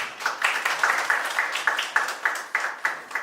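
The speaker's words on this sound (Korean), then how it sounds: "정우 교수님 큰 박수로 발제 부탁드리겠습니다." Scattered, fairly close hand clapping from a seminar audience greeting a photography and media professor at a New Bauhaus academic event, with sharp rhythmic claps standing out over a lighter wash of applause.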